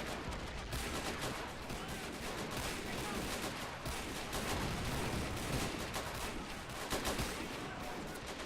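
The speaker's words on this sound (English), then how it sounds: "So the enemy are actually shelling us with artillery." Dense, continuous mortar and artillery fire in a WW1 Western Front trench video game, a rumbling barrage of overlapping blasts and crackling shots with no clear pauses.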